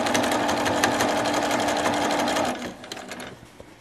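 A sewing machine stitches two fabric pieces in a rapid, even needle rhythm, then slows and stops partway through, leaving a few light clicks.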